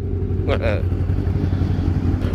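Mixed-brand motorcycles from a moto club gathering, including sport, super sport, cruiser and naked bikes, rumble in a steady low engine drone throughout, with a brief rev rising in the middle and someone talking over the noise.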